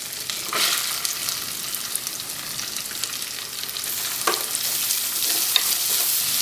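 Onions sizzle in a pan with ginger-garlic paste for potato biryani, a close, continuous frying hiss broken by several sharp scraping stirs of a spatula, with no voices.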